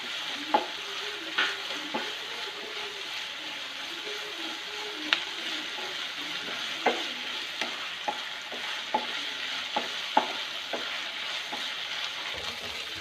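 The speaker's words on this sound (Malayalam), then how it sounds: "ഒന്ന് വാടി വരുന്നത് ഇളക്കി കൊടുക്കാം." Softening ingredients for biryani stirred in a pan over a soft, constant sizzle, with scattered light scrapes and taps of the spoon and no voices.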